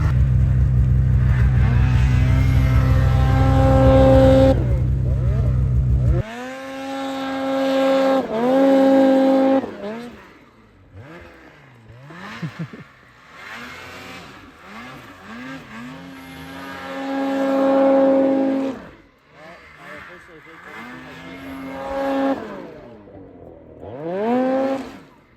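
A turbocharged car revs hard and accelerates, with loud engine roar, rising and falling revs, shifts and some tire squeal, sounding close and then pulling away in several surging bursts.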